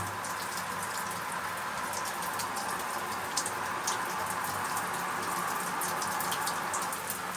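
Steady rain falls outdoors at a fishing spot, a dense continuous patter of drops with occasional sharper hits on nearby surfaces, constant and moderately loud throughout with no voices.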